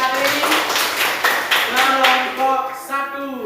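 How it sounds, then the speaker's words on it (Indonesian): Pupils in a classroom clap together in a loud burst of applause with overlapping voices, the clapping thinning out toward the end. "Baik, tepuk tangan dulu"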